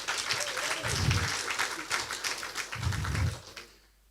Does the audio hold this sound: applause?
yes